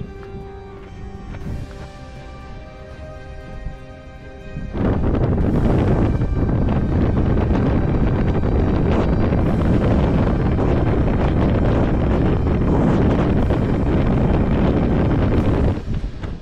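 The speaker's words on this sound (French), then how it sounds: "là le vent est glacial" Icy wind gusting across a fog-bound mountain summit on a Massif Central hiking traverse, loud and continuous buffeting against the microphone, rising sharply after a few seconds and roaring steadily to the end.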